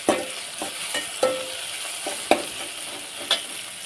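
Tomatoes stir-fried in a pan for chicken curry: a soft background sizzle broken by repeated sharp scraping and clinking strokes of a spatula, close and moderately loud.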